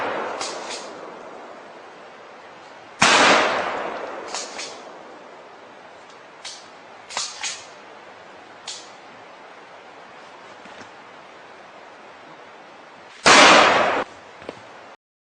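Gunshots from a shooter firing at targets on a range: a few sharp, loud, isolated blasts spread far apart, with faint smaller pops between them.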